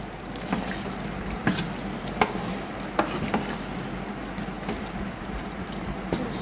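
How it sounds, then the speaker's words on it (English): Oil stirred into a simmering cassava leaves stew, a continuous bubbling sizzle broken by scattered clicks and scrapes of the spoon against the pot. "Stir in the oil."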